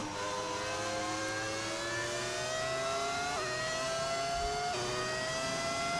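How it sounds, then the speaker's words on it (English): A V10 Formula 1 car engine in the F1 25 racing game revs hard and continuously, with rising harmonic whine, brief dips at gear shifts, and a steady loud roar throughout with no talking. "That's because it isn't a V6, it's a V10."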